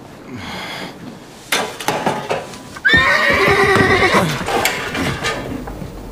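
A horse whinnies loudly and close at hand, a long wavering neigh lasting over a second, after some earlier stable knocks and shuffling.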